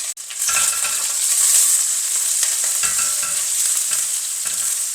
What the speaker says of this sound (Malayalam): അതിനോടൊപ്പം തന്നെ കടുക് വറക്കാനുള്ള കടുകും കൂടെ ഞാൻ ഇടുവാണ്. കടുകും പൊട്ടാൻ തുടങ്ങി.